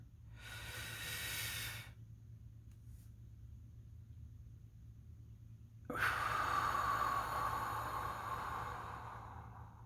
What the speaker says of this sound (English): Nice deep breath in.